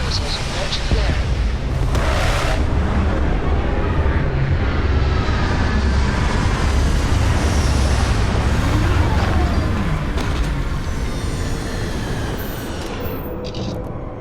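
A spaceship in Starfield comes in to land, a loud sustained roaring engine rumble with rushing thrust that holds steady and eases off near the end, a voice speaking over it.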